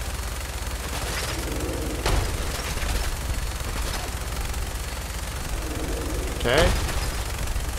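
Gunfire in Fallout 4 cracks out as a few sharp, isolated shots over a constant rumbling game background, with someone speaking briefly between them.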